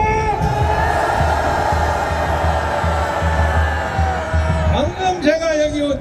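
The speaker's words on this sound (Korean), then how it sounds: "여러분 자축의 함성을 한번 불러주시기 바랍니다" A large crowd at a political rally in Korea roars a sustained celebratory cheer, a loud continuous mass of voices that lasts several seconds before breaking into scattered shouts and whoops.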